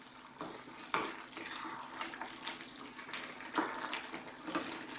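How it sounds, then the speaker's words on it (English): Cold water poured into a pot of slow-cooking Indian masala beef curry with softening tomatoes, a steady close splashing wash with a few louder sloshes. "Now I'm going to add some more water."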